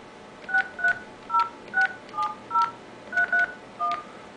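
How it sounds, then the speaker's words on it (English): A Cisco phone on an Asterisk system dials eleven digits, each a short clear DTMF tone beep, spaced at a brisk, slightly uneven pace over quiet room hiss. "Dialing from this system is just using the normal 11 digits"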